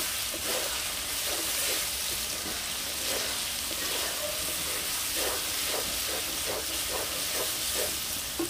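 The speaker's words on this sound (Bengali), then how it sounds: "মশলাটা খুব ভালো করে ভাজা হয়ে গেছে, কষানো হয়ে গেছে" Spice paste for mutton dak bungalow frying in a pot, a constant dense sizzle and hiss with repeated scraping stirs at a slow, regular pace, fairly loud and close.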